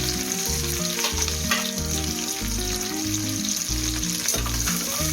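Shallots, green chillies and crushed garlic sauté in hot oil in a pan for rice and lentil rice, making a loud, steady sizzle with stirring. Rhythmic background music plays underneath.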